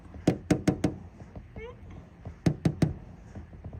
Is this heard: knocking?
yes